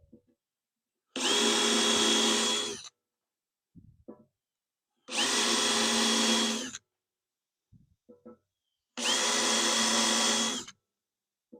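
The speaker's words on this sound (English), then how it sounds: "These holes are going to end up being 3/4 of an inch." A power drill cuts holes in a truck bumper, running in three loud, close bursts of roughly two seconds each, separated by quiet gaps and small handling knocks.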